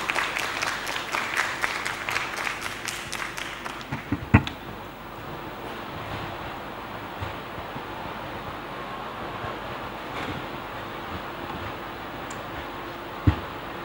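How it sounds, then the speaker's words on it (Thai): An audience at a Thai school debate event gives several seconds of steady, dense applause, which then dies away to quiet room noise broken by a couple of faint knocks. "ขอเสียงปรบมือด้วยค่ะ"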